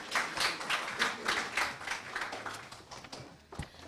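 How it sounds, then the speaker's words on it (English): Audience applause welcoming a minister at an independence debate competition: steady, dense clapping from a crowd for about four seconds, thinning slightly toward the end with a sharper clap near the close. "Make her feel welcome. Round of applause."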